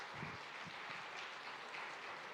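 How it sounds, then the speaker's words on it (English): Audience applause fills the room at a farmers' innovation recognition event, a steady, dense patter of many hands clapping at moderate volume with no voices over it. "I think we should really give them a big round of applause."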